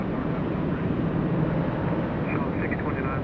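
An airliner takes off at Los Angeles International Airport, a loud, steady broadband jet roar close by, with a faint voice partly heard beneath it.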